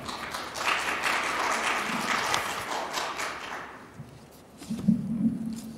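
Audience applause at a regional advisory council training event as the Jeonju city council chairman comes to the podium, a fairly loud spread of clapping that fades out midway before a few scattered thumps and handling noises.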